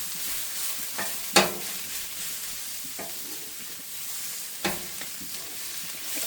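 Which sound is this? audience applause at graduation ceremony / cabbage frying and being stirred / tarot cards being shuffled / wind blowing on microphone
cabbage frying and being stirred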